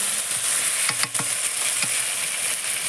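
Chicken pieces frying in a pan of fried spice paste, a constant close sizzle broken by a few sharp stirring scrapes and clatters near the middle.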